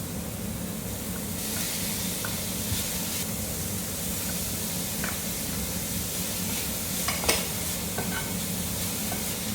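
Tomatoes and red capsicum fry in a pan for shakshuka, giving a steady broadband sizzle throughout with faint scraping stir strokes and a brief sharper clink near the end, no talking.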